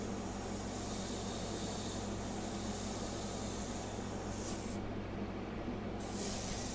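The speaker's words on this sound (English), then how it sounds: "But we can use the airbrush." An airbrush sprays India ink in steady, continuous hissing bursts, close and fairly quiet, with a brief pause near the end and no talk.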